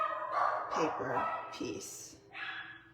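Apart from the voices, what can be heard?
dogs barking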